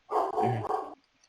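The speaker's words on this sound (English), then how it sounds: "I love that my dog is losing it upstairs." A dog barks loudly in a rapid cluster of three overlapping barks from upstairs while playing with a puppy, then it goes quiet.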